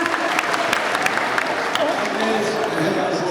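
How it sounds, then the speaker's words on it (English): Audience applause at a fan event, a dense, even wash of clapping from a crowd, loud and sustained with scattered voices underneath. "Round of applause for Joanne."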